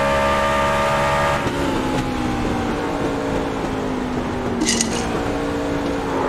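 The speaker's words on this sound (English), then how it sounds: "You heard the downshift seconds before the truck breaks loose" A race truck engine drones steadily under load, its pitch stepping through a downshift partway in, with a brief sharp burst of noise near the end; no talk is heard.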